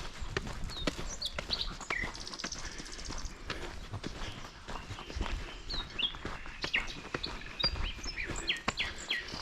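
Scattered bird chirps and tweets ring out over a soft outdoor background in spring, with intermittent clopping or tapping sounds nearby.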